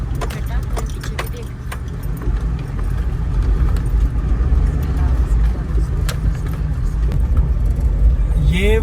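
Car driving slowly in traffic along a narrow, broken road, a continuous low engine and rumble of tyres over rough surface, with rattles and clinks throughout.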